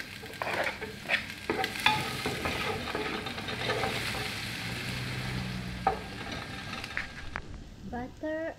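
Onion frying in butter in a pan for a Lebanese dish, a steady close sizzle with scraping stirs and occasional clicks of a utensil, and brief voices toward the end.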